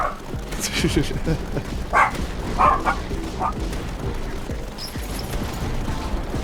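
A dog barks several times at some distance in a house, short sharp yaps scattered over a busy background of game sounds and someone talking.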